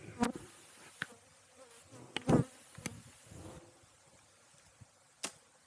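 Bees around a beehive buzz past in short, faint passes and brief buzzes against a quiet outdoor background, with a few sharp close buzzes as single bees fly near.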